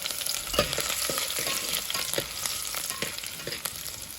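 Green chillies sizzle and crackle in hot oil for samosa preparation, a dense continuous frying hiss with occasional stirring pops, close and loud with no voices.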